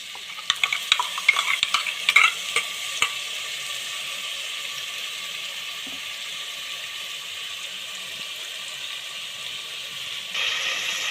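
Green ground paste stirred and frying in a pan with sautéed green chillies, a few sharp scraping clicks early on, then a steady close sizzle that continues alone.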